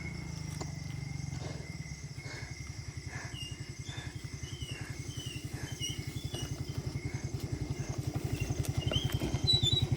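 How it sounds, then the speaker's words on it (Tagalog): A motorcycle engine runs with a steady low putter, its rapid pulsing firing growing gradually louder over ten seconds during a night walk, with faint crickets in the background. "Sakit tayo ng motor"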